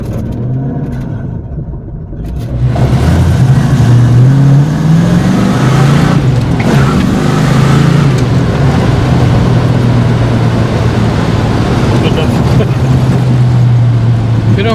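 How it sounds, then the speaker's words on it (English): A 1940 Ford DeLuxe hot rod pulls away hard on the street, its engine note climbing into a loud, sustained revving roar after a brief quieter idle, with a short tire chirp as it accelerates. "How many years it's been since I've chirped the tires in this thing?"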